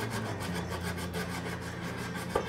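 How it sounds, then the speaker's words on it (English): Sandpaper rubbed by hand across a wooden thrift-store decor piece to round it off, a steady close rasping scrape in quick repeated back-and-forth strokes throughout, with no voices. "Going to take some sandpaper and sand this down, kind of round it out a little."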